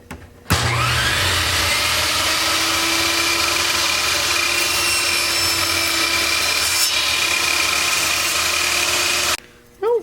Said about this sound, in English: It cut right through that wood.